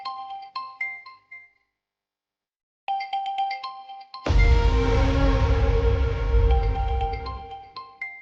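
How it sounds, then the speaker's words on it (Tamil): A mobile phone ringtone plays a bright, chiming melody in short repeated phrases that stops and then starts again. Heavy rumbling music swells underneath as it keeps ringing. "என்ன போன் சவுண்ட் அடிக்குது?"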